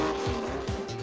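A 1971 Porsche 914-6 GT race car drives past, its engine note holding a steady, loud tone with brief tire-squeal-like sweeps, heard close and alone without talk.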